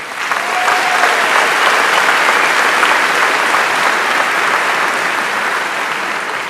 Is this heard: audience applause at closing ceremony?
yes